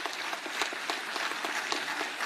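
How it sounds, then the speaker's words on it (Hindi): An audience at a Jharkhand state legal services camp applauds to welcome a judge, a steady crowd of claps with distinct individual hand strikes standing out. "इनका भी जोरदार तालियों से आप लोग स्वागत करेंगे"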